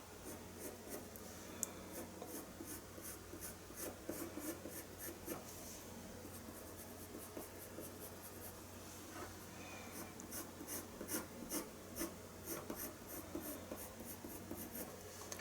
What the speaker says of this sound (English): now I'm going to do some burnishing with white in between the forelock.